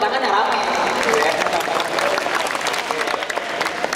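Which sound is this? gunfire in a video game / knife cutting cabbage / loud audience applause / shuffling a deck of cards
loud audience applause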